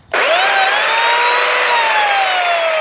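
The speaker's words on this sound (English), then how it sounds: "I'm only crazy enough to use an electric chainsaw" An electric chainsaw starts and runs steadily at a high whine, cutting continuously and loud throughout, with no voices.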